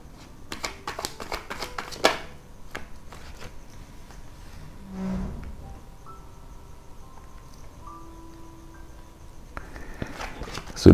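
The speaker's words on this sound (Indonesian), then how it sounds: "Kita keluarin 10 kartu ya teman-teman." Tarot cards being shuffled and dealt at a close tabletop, a rapid flurry of crisp riffling snaps at the start, then quieter single card placements and soft handling sounds, with a faint background tone.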